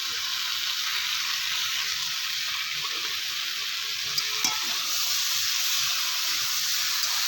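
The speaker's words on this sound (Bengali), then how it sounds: "এরপরে যে আমি মশলাটা বেটে রেখেছিলাম সেই মশলাটা দিয়ে দিচ্ছি" Ground spice paste fries in a pan for a drumstick vegetarian dish, giving a steady, close sizzle and crackle with a few faint stirring knocks and no talking.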